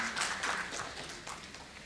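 A conference audience applauds a panel speaker at a smart-lending discussion, producing a steady, diffuse wash of clapping that fades slightly toward the end.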